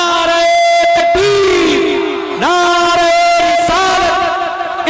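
Crowd at a religious gathering answering the Takbeer slogan call, loud massed voices chanting in unison with sustained tonal cries that rise and repeat, filling the whole stretch.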